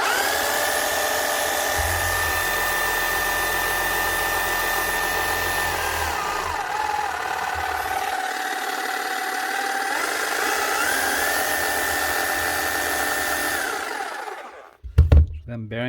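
A Makita HM0860C demolition hammer runs after a bearing repair, its motor giving a steady whirring whine with a faint high tone, then spinning down near the end before a brief clatter.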